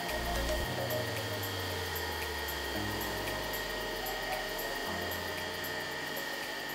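A power tool carves flip-flop foam into an elephant figure, a steady close whine that shifts pitch in steps as the cutter bites into the foam, with no talking.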